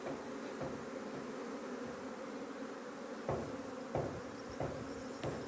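Honey bees buzz steadily around an opened hive at an apiary in Adana in April, a faint, even drone with a few soft knocks from hive parts being handled.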